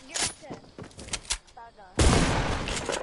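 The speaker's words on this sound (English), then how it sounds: "Shotguns! Shotguns!" Shotgun blasts in a video game, a few sharp shots with people talking over them, then a loud sustained burst of fire near the end.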